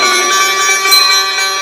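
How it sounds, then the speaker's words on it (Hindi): A bell rings loud and close, holding one sustained metallic tone with bright overtones that hangs without fading. No other sounds are heard. "घंटी टन टन करके बजने लगी।"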